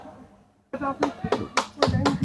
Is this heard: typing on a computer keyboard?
no